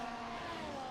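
Racing cars circle the Jeddah track in a racing video game, a steady high engine whine held loud and continuous with no break.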